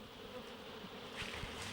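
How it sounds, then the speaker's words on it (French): Bees in hot summer air near a village beekeeping family's hives, a steady close buzzing drone that rises slightly and holds throughout. "L'air brûlant vibre du bourdonnement laborieux des abeilles."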